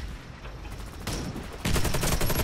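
Gunfire in the shooter game Warface, with dense, continuous automatic bursts that swell louder toward the end.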